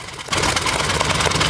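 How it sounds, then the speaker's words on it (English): A 50-year-old radial engine being restored catches and runs, jumping from a quiet start to a loud, steady, rapidly pulsing clatter that continues close and unbroken. "Radial engine."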